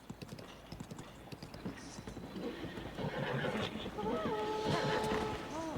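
A horse in the video game Breath of the Wild clip-clops along with steady hoofbeats and lets out neighs and whinnies, fairly close and layered with game sounds, growing louder through the second half.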